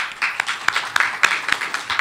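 A small audience at a press conference for a street grand prix claps, steady overlapping claps with a few sharper ones standing out, near and moderately loud, no talk over it.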